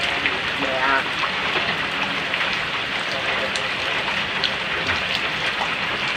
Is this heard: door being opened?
no